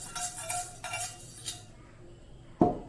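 A spoon stirs ragi banana pancake batter in a bowl, with repeated soft scraping and mixing strokes for about a second and a half, then a quiet pause and a single sharp clink of the utensil against the bowl near the end.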